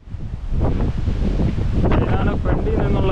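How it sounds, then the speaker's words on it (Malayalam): Strong wind buffets the microphone outdoors at an old stone cave site near a 9th-century Jain monument, a loud continuous rumble with gusty swells throughout. "നല്ല കാറ്റുണ്ട് ഇപ്പോൾ."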